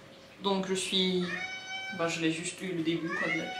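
A cat meows several times in drawn-out, tonal cries close by, overlapping a person speaking French indoors while heavy rain and thunder go on outside.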